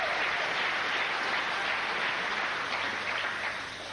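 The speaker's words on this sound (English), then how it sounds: "the crowd greeting every point that Chuang wins with a roar of approval" A crowd at a 2002 European Champions League table tennis match applauds and cheers loudly as a point is won, a dense sustained roar that eases slightly toward the end.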